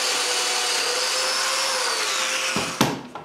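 A power saw runs continuously, cutting a solid pine pantry board to length; the steady whine ends abruptly near the close, followed by a couple of clunks as the cut piece comes free.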